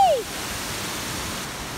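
Boti Falls waterfall in Ghana gives a steady, broad rush of falling water, loud and continuous throughout, with a brief whistling tone at the very start.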